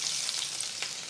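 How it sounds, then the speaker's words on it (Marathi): Green chillies, hing and curry leaves sizzle in hot oil as a tempering, a bright steady frying crackle close by, with a light stirring scrape partway through. "आता ही फोडणी व्यवस्थित मिसळूयात."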